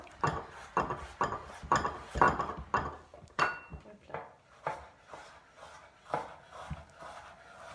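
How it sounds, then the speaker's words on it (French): Fine chopping of ingredients for a tortilla, a steady run of sharp knife strikes on a board, fairly close and moderately loud, slowing into scattered cuts toward the end. "on les coupe de manière plutôt fine, de sorte que ça soit bien cuit"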